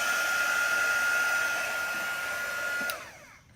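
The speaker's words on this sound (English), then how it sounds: "Got a new heat tool." A new heat tool dries chalk paste on glass with a loud, close, steady blowing whoosh that cuts off near the end and trails away into quiet.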